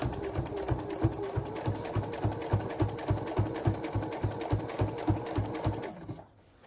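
Sewing machine stitching binding around the edge of a quilt, a steady run of rapid needle strokes close by that stops abruptly near the end.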